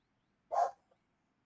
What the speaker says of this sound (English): If you hear my dogs, they're barking up a storm.